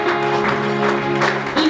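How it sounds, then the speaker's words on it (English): A church congregation clapping in a steady rhythmic beat, loud and close, blended with crowd noise and a sustained musical drone underneath. "Hey, clap for Jesus."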